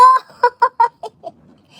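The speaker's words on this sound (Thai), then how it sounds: "ไก่ออกคอก" Chickens let out of their coop clucking: a loud opening call followed by a quick series of five short, close clucks that fade toward the end.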